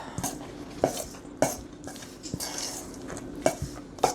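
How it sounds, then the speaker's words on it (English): A spoon scrapes and knocks against a pan while stirring taco seasoning into shredded chicken enchilada filling, irregular clinks and soft scraping strokes at close range with a faint sizzle beneath. "Then we're going to stir it around."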